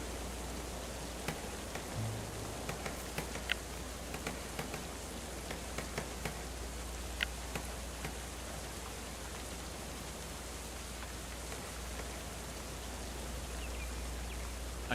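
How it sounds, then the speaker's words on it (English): Steady rain falls in a colony sim game as an even, soft hiss, with scattered faint drop ticks over a low constant hum. No one speaks. "nice roofed area where you can hide from the rain. But still listen to it."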